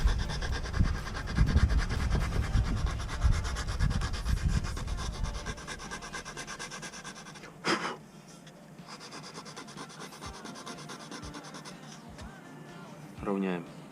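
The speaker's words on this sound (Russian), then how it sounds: "Сейчас 80-й наждачкой немножко их подровняем" Hand sanding of body filler on a dented BMW X5 E53 wheel rim with 80-grit sandpaper, a dense, steady rasping rub for the first several seconds, then quieter, sparser scrubbing strokes with a few soft knocks.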